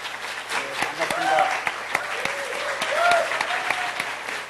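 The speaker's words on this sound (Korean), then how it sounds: "여러분 박수로 맞이해 주십시오." A sustained round of audience applause at a Korean talk concert greets the Minister of Science, ICT and Future Planning, steady and fairly close, with a few voices calling out over the clapping.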